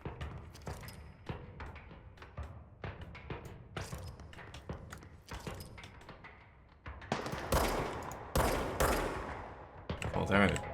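Sniper rifle fire in the video game Control comes as a dense run of sharp cracks and thumps in rapid bursts that swell louder toward the end, with a voice talking over part of it.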